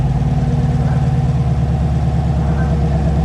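2019 Camaro SS V8 fitted with a Roto-Fab cold air intake running steadily with a deep, loud rumble; any rev is slight, with the engine mostly holding a low, even throb up close.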